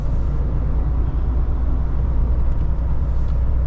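A car moving slowly along a road toward Lutsk in wintry weather, a steady low engine and road rumble heard from inside the vehicle, loud and unbroken.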